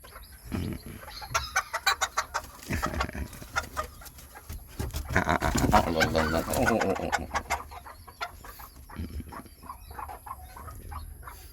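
Chickens cluck and squawk nearby in bursts, with a rooster-like call rising in the middle and some faint voices in the background.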